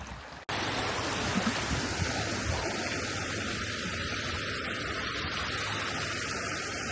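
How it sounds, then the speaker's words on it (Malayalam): Steady, loud rush of a stream flowing over rocks on an outdoor trek, a continuous broadband wash that starts abruptly and holds evenly throughout. "കണ്ടോ വെള്ളമൊക്കെ ഒഴുകി വരുന്നത്."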